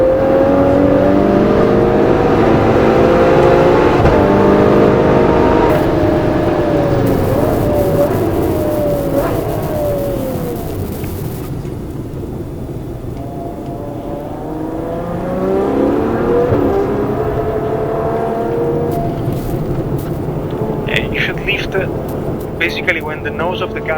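Ferrari 812 Superfast V12 engine revving hard on a hot lap at the Fiorano test track, loud interior roar rising and falling through gear changes, with people talking over it.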